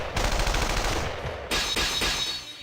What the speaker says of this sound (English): I'm met with barricades and heavy artillery.